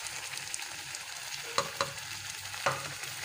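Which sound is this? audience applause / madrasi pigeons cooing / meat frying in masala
meat frying in masala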